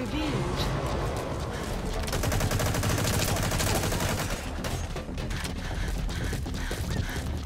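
Rapid automatic gunfire from the online shooter Metal Gear Online, dense overlapping bursts that run nearly continuously at close range, with voices talking over them.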